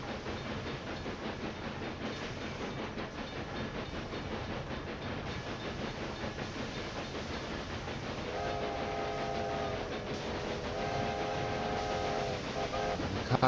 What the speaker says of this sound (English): Cargo train coming.